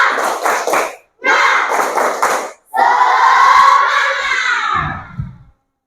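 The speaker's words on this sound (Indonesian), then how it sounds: "Tepuk semangat." A school class does rhythmic spirit clapping in a classroom: two bursts of quick patterned group claps, then a long loud collective shout, ending in a few soft thuds.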